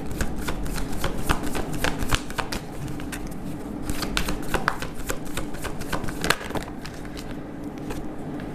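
Tarot cards are shuffled by hand in a continuous stream of crisp, rapid flicks and riffling taps, close and fairly loud, with no voices.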